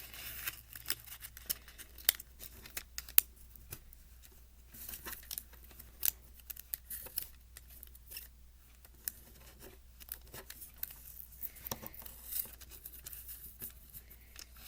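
Sheets of paper are folded into an origami lotus flower, giving soft, close crinkles, creases and taps that come in irregular bursts against a quiet background.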